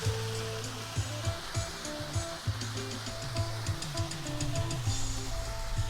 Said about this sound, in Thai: ปล่อยน้ำเสียงดังอยู่ครับ มีเสียงดัง ของน้ำไหลอยู่